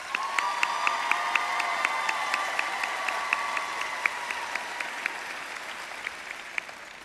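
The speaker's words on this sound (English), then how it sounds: "Let's give them a round of applause." Audience applause at a school convocation roll call honoring elementary and special program staff, a steady wash of clapping from a large crowd with light cheering, sustained for several seconds without speech.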